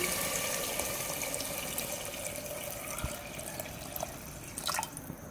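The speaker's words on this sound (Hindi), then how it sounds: "मैं 4 गिलास पानी शामिल करूँगी।" Four glasses of water splash and trickle steadily into a pot of aloo gosht, a soft continuous pouring with a few drips near the end and no speech.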